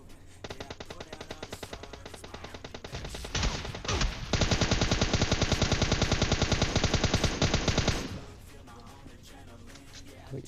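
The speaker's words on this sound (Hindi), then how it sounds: "निकलते ये AKM का भी शॉट आते हैं" AKM rifle fire in PUBG Mobile Lite: rapid full-auto bursts, a short run followed by a longer sustained stream of shots, loud and close, then a quieter tail with scattered distant shots.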